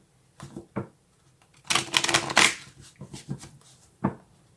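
Tarot cards are shuffled up close in a few short riffling bursts, with soft taps and a longer flurry in the middle, in a quiet room.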